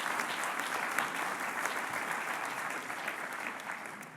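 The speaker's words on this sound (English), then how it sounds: "So maybe we'll give a round of applause." Steady, even applause from an audience at an annual student awards ceremony, continuing throughout at moderate volume and fading slightly toward the end.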